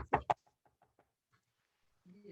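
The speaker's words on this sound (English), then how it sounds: "Sadie heard a loud knock at the door" Two loud, sharp knocks at a door, close together at the start, followed by a few faint tapping sounds and then a low murmur near the end.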